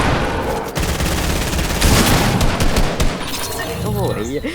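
Video game gunfire rattles in dense rapid bursts, loud and continuous, with scattered sharper shots toward the end.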